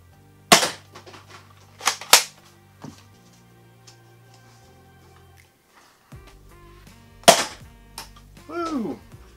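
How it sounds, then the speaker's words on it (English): A Nerf Fortnite HC-E Mega hand cannon, a large pistol-style dart blaster, fires with sharp snapping cracks, several distinct pops and clacks separated by quiet gaps, with a brief voice sound at the end. "I'll go ahead and load up another dart and fire it off."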